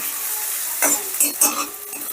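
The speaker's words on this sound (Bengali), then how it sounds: "এবারে রসুন আর পেঁয়াজটাকেও ধরো আমি 2 মিনিটের মতন একটু নাড়াচাড়া করে নেব" Garlic and onion are stirred as they fry in a pan, with a steady sizzle broken by a few quick scraping strokes close by.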